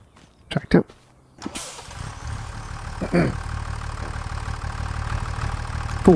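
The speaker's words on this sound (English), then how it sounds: "Tractor." Tractor engine in Farming Simulator starts after a few clicks and knocks, then settles into a steady mid-pitched idle rumble that grows slightly louder, with a voice briefly heard.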